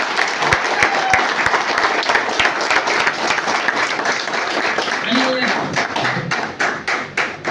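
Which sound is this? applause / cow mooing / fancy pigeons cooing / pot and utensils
applause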